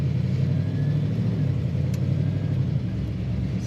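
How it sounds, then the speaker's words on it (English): A 1954 Oldsmobile 88 Holiday with a stock-sounding engine and column-shift automatic idles with a steady, low rumble that stays close and even throughout, with no talking. "It's got a nice rumble to it though"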